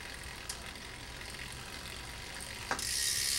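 Bicycle crank spun by hand while unscrewing a pedal, giving a steady run of soft ratcheting freewheel clicks close by, ending in a brief sharp knock and a louder hiss-like rush.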